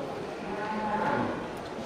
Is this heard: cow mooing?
yes